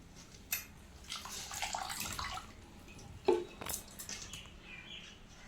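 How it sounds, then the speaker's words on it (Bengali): Chopped banana flower pieces are squeezed by hand and lifted out of a bowl of water while cooking mochar ghanto, giving soft, close splashes and drips with a sharper slosh midway, with no talking. "জল থেকে হাত দিয়ে চেপে চেপে তুলে নিচ্ছি, যাতে এক্সট্রা জলটা না থাকে।"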